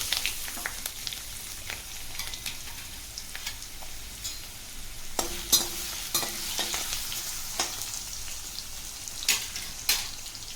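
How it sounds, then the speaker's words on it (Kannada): Carrot and curry leaves frying with other vegetables in hot oil over a high flame, a close, steady sizzle broken by repeated scrapes and clicks of stirring. "ಇದೆಲ್ಲ ಹೈ ಫ್ಲೇಮಲ್ಲೇ ಫ್ರೈ ಮಾಡ್ಕೋಬೇಕು"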